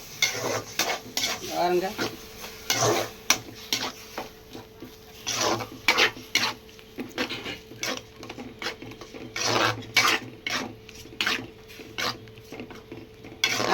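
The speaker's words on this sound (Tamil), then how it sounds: "எல்லாம் வதக்கிக்கிறோம்." Vegetables sauté in a pan with a steady sizzle while a spoon scrapes and clanks against the metal in irregular strokes. A voice briefly speaks early on.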